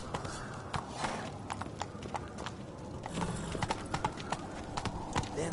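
Roach, a horse in The Witcher 3, trots with rapid, regular clip-clop hoofbeats over a soft ambient bed, steady and fairly close, with a voice talking faintly.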